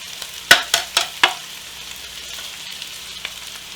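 Carrots hit a hot pan of frying shallots with four quick clatters and stirs, then a steady soft sizzle hisses on underneath, close and moderate in level.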